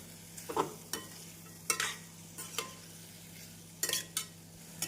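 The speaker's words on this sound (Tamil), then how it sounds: "காய்கறிகள் சேர்த்து மசாலாவுடன் நன்றாக மிக்ஸ் செய்ய வேண்டும்" Spoon stirring boiled vegetables into frying masala in a pan for vegetable kurma, a series of sharp scraping strokes at irregular intervals over a soft, continuous sizzle, close and fairly quiet.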